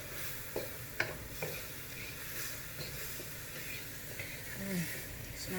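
Chicken stir-fry with cumin sizzles steadily in a pan, a continuous close hiss broken by a few light clicks and scrapes of stirring, with a faint voice murmuring in the background.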